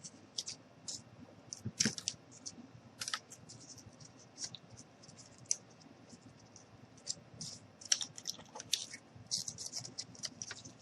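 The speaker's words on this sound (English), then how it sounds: "We're just going to cut this right down the middle." Scissors or a blade working through cardboard down the middle, heard as quiet, close, irregular snips and crisp scratchy bursts with short pauses between cuts.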